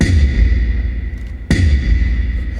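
Boomy distorted electronic tom hits with a long reverberant wash, low thuds repeating, one sharper strike landing midway.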